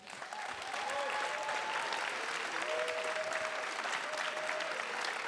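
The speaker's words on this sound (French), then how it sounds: "tonnerre d'applaudissements." Sustained applause from an audience at a debate event honoring freedom fighters, a dense, even wash of clapping filling the room for several seconds, with faint whistles or cheers rising above it.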